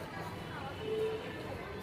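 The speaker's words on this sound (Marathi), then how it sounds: "गडबड सुरू आहे सगळ्यांची प्रवासाला निघायची" Morning bustle of travelers at Solapur railway station, a steady murmur of crowd chatter and footsteps filling the background, moderately distant and continuous without distinct voices standing out.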